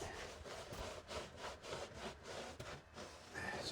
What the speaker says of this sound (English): just giving them a wipe over like this and coating them up should just keep the dirt off of them